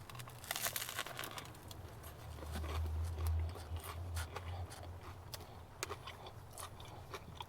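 Crunchy bread sandwich bitten into and chewed close up, with crackly crust crunches and crinkling wrapper sounds and no talking.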